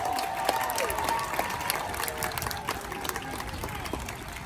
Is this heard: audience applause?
yes